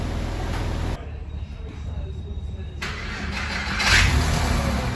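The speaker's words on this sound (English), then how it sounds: "Cleaned up the starter motor cabling as well, so hopefully that's going to speed up that lazy starter a little bit." Porsche 996 or 997 sports car with a lazy starter motor: steady cranking and mechanical noise, then a brief lull before the flat-six engine catches and revs up loudly close by, with people talking over it.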